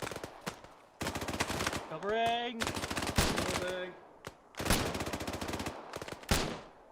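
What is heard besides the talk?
rapid gunfire in the video game Arma 3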